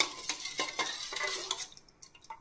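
Spoon stirring wheat flour into liquid in a metal pot for undrallu payasam, a quick run of rhythmic scraping clinks against the pot sides, close and moderately loud with no talk.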